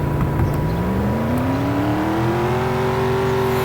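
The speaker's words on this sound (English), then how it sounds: "Alright, so we're gonna launch the car." A Nissan Skyline launches in a racing video game, its engine climbing steadily in pitch as it accelerates hard, loud and close, with no pauses or shifts.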